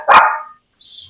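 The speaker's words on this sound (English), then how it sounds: "Bark, bark." A single sharp dog bark, close and loud, followed by a faint high whine; no talking.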